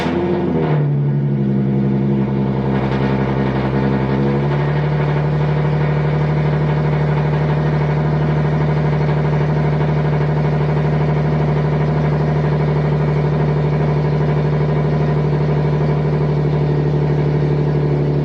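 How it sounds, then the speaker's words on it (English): A truck's engine cold-starts with a new exhaust, cranking and firing up, briefly revving before settling into a loud, steady, rumbling idle through a throaty exhaust. "The first complete cold start with the new exhaust."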